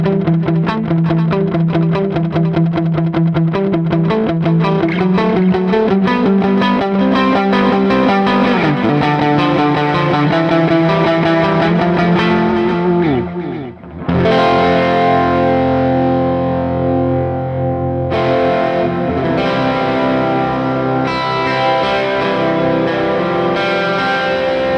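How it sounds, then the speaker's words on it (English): Electric guitar played through a dual delay setup with distortion, sustained chords and notes ringing out and repeating in echoes that bounce back and forth, with a brief dip midway before the playing resumes, loud and alone. "you can have like 2 different types of delay going on at the same time"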